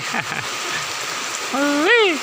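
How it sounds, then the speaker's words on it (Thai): Rain falling in a steady, close hiss that runs through the whole stretch, with a brief rising whoop-like voice or call near the end. "ฝนมาแล้วครับผมเย็นสบายชื่นใจเลย"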